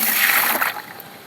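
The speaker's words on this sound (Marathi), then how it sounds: "आता बारडीत ओततो" Hot water pours and splashes into a bucket, a brief bright gush that thins into a trickle before stopping.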